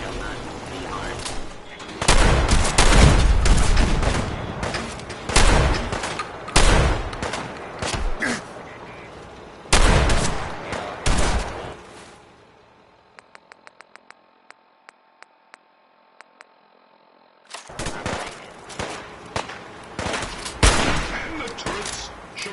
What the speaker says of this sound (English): A few warning shots usually suffices here. Ready? Fire at will.